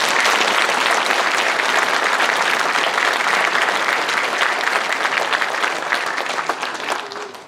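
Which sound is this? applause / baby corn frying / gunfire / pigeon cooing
applause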